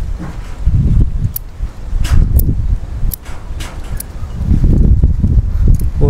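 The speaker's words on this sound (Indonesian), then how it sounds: "Jadi yang perlu kita pruning yang daun-daun di bagian bawah ini saja ya teman-teman." Lower leaves are pruned from a hedge plant being shaped into a bonsai, with close leafy rustling and sharp intermittent snips and clicks throughout.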